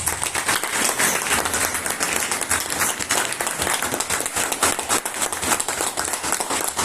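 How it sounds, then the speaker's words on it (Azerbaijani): Loud, dense applause from an audience at a memorial gathering for a fallen soldier, steady and sustained throughout. "analar şərəfinə gürültülü bir alqış istəyirəm"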